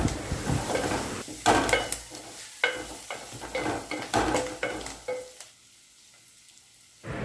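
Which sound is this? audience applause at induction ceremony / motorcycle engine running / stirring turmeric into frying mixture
stirring turmeric into frying mixture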